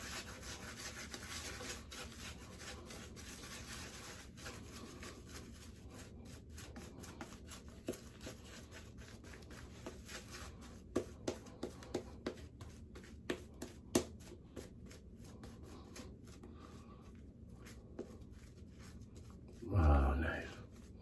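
A Gillette ProGlide Power 5-blade razor scrapes across stubble during shaving in soft, close rasping strokes, with faint clicks scattered through and a brief louder bump near the end.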